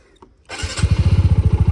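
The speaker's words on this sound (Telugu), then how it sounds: "ఓకే బండి స్టార్ట్ చేసి ఫస్ట్ గేర్ అయితే వేసాను చూడండి వావర్ ఆర్పిఎం అయిపోతుంది కానీ బండి పరిగెట్టట్లేదు" Motorcycle engine catching after a brief quiet start, then running with a fast, steady pulsing beat as revs rise in first gear while the worn clutch slips and the bike stays put, loud and close.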